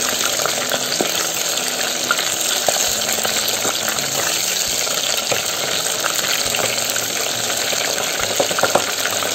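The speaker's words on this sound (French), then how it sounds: "Vous devez tout simplement faire frire votre poulet afin qu'elle soit dorée" Steady, dense sizzling and crackling of chicken frying in hot oil, continuous and close, with small pops and a faint background hum.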